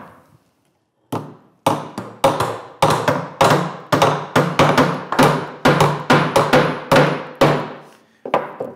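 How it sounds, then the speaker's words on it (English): A hammer taps the sides of a metal workpiece in a trade shop, with a steady run of about twenty sharp, ringing close strikes spaced roughly half a second apart. "And we'll tap the sides."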